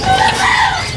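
A bird offered for sale at a market calls loudly and continuously, a clucking, crowing fowl-like voice close by with steady background noise.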